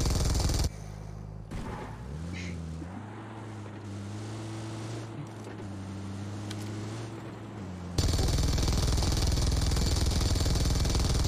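Gunfire in the battle game BGMI, a sustained run of loud shots layered over a steady engine-like drone, ending in a sudden dense burst of noise.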